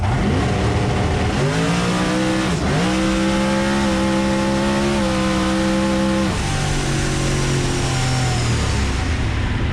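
A 2200 HP Corvette drag car accelerates hard at a drag strip, its loud engine climbing through rising gear pulls with a brief shift dip, then settling into a lower steady drone as the run ends.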